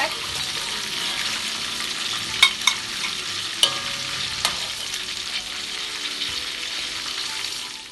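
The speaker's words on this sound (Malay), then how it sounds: "Dan kita goreng lagi ya," Steady sizzling of chicken frying in a pan, loud and continuous, with a few sharp pops and clinks of a utensil stirring.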